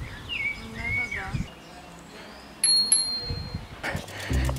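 Birds chirp and sing around hotel hammocks in sunny Fiuggi, Italy, with bright high calls and a couple of sharp ringing tones over quiet outdoor background, fairly close and intermittent.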